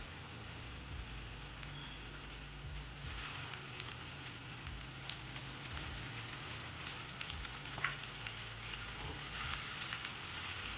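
Tomatoes fry in a pan for a South Indian soya chunk thokku, giving a steady, quiet sizzle with faint crackles throughout, and no voices.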